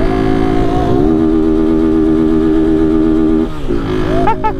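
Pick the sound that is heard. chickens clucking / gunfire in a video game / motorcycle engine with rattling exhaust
motorcycle engine with rattling exhaust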